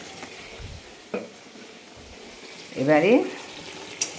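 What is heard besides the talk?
stirring mango pickle with vinegar in a pan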